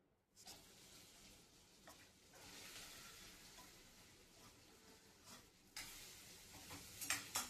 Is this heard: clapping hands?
no